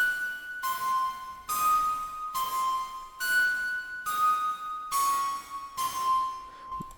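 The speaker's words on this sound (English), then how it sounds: "simple bell melody" Synthesized bell melody built from sine and saw waves with light distortion, delay and reverb, repeating bright tonal phrases in a steady rhythm, clear and alone with no voices.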